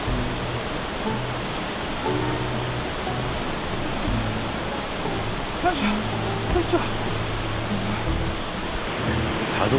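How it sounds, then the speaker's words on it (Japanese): Inukai Falls in Kagoshima drops about 36 m with a heavy flow of water, giving off a steady, unbroken roar of rushing water that holds at an even level throughout. "たどり着いた犬飼滝は確かにすごい。 落差およそ36メートル、そしてとても豊富な水量。"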